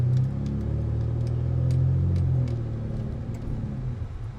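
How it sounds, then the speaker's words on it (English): A Ford Taurus Limited accelerates with a steady, loud, low exhaust drone that swells and holds, then eases slightly toward the end, heard close up with no talking. "I'll also give you guys a little pull so you guys can hear the exhaust sound a little bit too"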